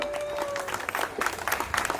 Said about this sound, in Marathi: एकदा टाळ्या झाल्या पाहिजे स्मितासाठी